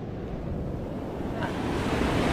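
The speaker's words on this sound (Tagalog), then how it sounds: "Wow, dagat!" Sea waves washing ashore with steady wind buffeting the microphone, a continuous broadband roar that swells slightly louder toward the end.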